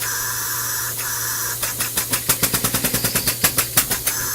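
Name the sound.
air engine running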